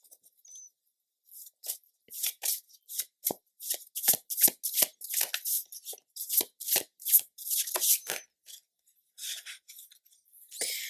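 A deck of tarot cards is shuffled in close, crisp bursts, a rapid series of riffling and slapping sounds with brief pauses between them and no talking.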